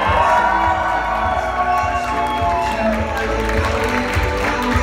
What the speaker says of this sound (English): And let's keep your applause going to very handsome Thomas.